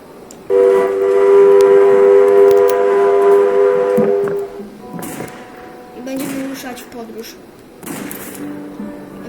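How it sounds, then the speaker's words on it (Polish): A stopped train gives a loud, sustained whistle-like tone for about four seconds, followed by clunks and hissing bursts, with people talking over it. "zatrzymał się tutaj pociąg, będziemy mieli przejażdżkę"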